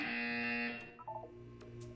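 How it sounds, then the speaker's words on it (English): A buzzer sounds in the Portal video game: a loud, sustained electronic buzzing tone fades away, followed by short faint beeping notes and a low hum, with no speech. "You will hear a buzzer."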